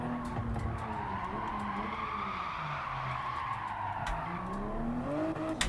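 A Toyota Supra lapping a racetrack in Gran Turismo 7, its engine droning steadily with rising and falling pitch as it shifts, and tires squealing and skidding through corners, continuous and fairly close with no talk.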